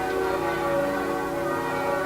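Church bells ring out with sustained overlapping tones, a continuous resonant peal at moderate distance with no talking.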